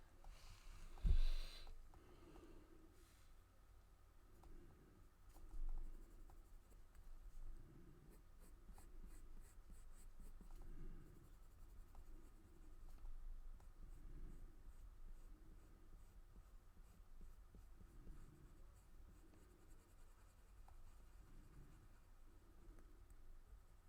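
Pencil shading on paper while drawing skin tones, soft scratchy strokes repeating in a steady rhythm, faint and close, with light breathing and no talk.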